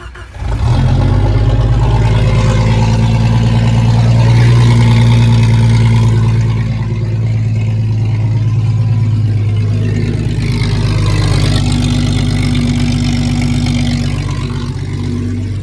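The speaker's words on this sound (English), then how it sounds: "I'll start it up and let's see how it sounds" The small engine of a Vevor $100 welder generator runs just after starting, a loud steady low drone with a brief rise and slight dip in pitch, close and continuous without speech.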